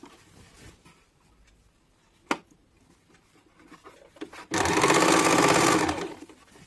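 A sewing machine runs in one loud, steady burst of about two seconds, stitching the lower section of a six-panel petticoat (saya), after a quiet stretch with faint handling noises and a single sharp tap.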